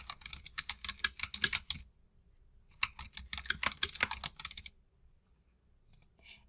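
Someone types a name on a computer keyboard in two quick bursts of close, crisp key clicks separated by a brief pause, with a few light clicks after.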